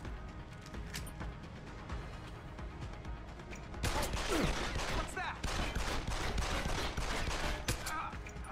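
Gunfire in the video game Deus Ex: Human Revolution, a loud burst of rapid overlapping shots starting partway through, following a quieter stretch of background ambience.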